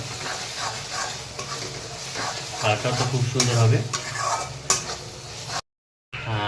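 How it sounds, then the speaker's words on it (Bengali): Onions with chilli, cumin and other ground spice powders fry in hot oil, and a spoon scrapes and stirs them in a pan over a steady low sizzle while a person talks. "দিয়ে একটু নাড়াচাড়া করে নেবো আর একটু ভালোভাবে ভাজা হয়ে যাবে"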